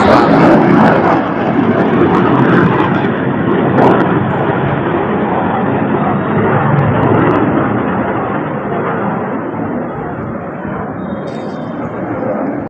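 A jet airplane flying overhead makes a loud, steady broadband roar that holds for the whole stretch and fades slightly toward the end, with no talk over it.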